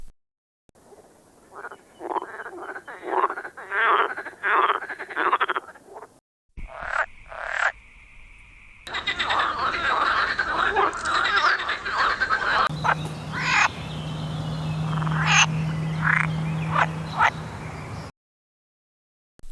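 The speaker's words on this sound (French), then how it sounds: "Grenouille verte. Pélophylax. Les différents chants." Green frogs (Pelophylax) calling: a run of rapid, rhythmic croaking bursts, then a mix of varied call types, including a steady low drone under repeated sharp croaks, with no voices.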